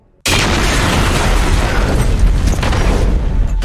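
A missile launcher explosion from the Metal Gear Solid video game, a sudden loud blast that erupts after a brief silence and holds as a dense, roaring rumble to the end.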